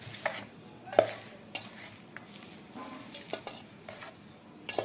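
Fenugreek powder and mustard powder being stirred together for cauliflower pickle, heard as soft scraping and stirring with a few sharp clinks of a spoon against a dish, close by with no talking.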